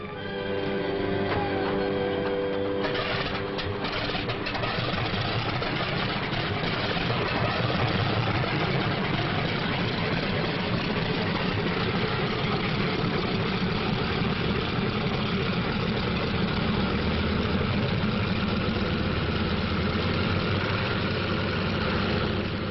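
Several fighter plane engines idle before takeoff, a loud steady low rumble with vibration that holds throughout, with sharper mechanical bursts near the start.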